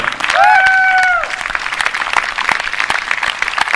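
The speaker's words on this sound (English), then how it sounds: "I got another applause" An audience applauds a celebrated American painter after a joke, a burst of crowd clapping that starts loud and settles into a steadier patter, with a voice crossing it early on.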